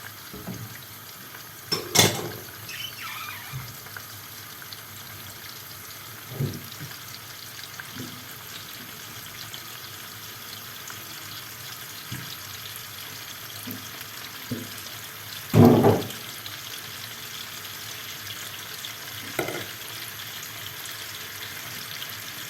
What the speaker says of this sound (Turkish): yağ erisin margarinim